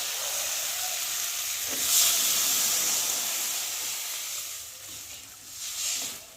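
Water poured into a pan of sizzling spiced vegetables, cooked in oil for a fish curry, gives a steady bright hiss and sizzle that swells briefly a couple of times, heard close with no talking.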